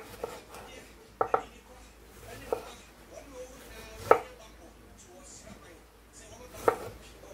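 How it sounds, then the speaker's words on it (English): Garden eggs being sliced on a cutting board for okra stew give a few sharp, separated knife chops, close and fairly quiet, spaced irregularly with low background noise between them. "I'm gonna slice them small"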